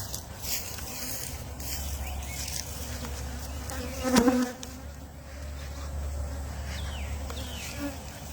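Honey bees swarming around an opened, irritable hive, a dense continuous buzz with individual bees zipping close past the microphone and one louder pass midway.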